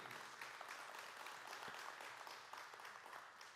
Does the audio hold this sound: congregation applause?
yes